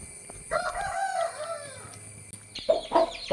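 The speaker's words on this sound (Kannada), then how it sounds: "ನಿನ್ನೆ ಒಂದು ಬ್ಲ್ಯಾಕ್ ಕಲರ್ ಹೆಟೆ ಮರಿ ತೆಗೆದಿದೆ ನೋಡಿ, 10 ಮರಿ ತೆಗೆದಿದೆ." Clucking and soft calls from a black hen with ten newly hatched chicks in a village coop, several close, moderately loud bursts with brief pauses and no talking.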